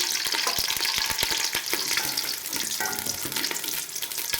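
Whole spices with ginger and star anise are frying briskly in oil for chicken degi pulao, giving a close, continuous sizzle broken by rapid scraping and clicking strokes of stirring, with no voices.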